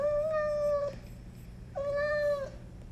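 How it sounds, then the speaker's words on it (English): Two clear cat meows play as a sound effect in the ShadowDraw app, each long and tonal with a drawn-out fall, spaced a second apart and heard alone. "We're going to put in more meows."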